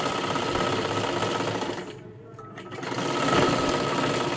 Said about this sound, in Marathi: आता इथून आपल्याला हे शिलाई करायला सुरुवात करायचं आहे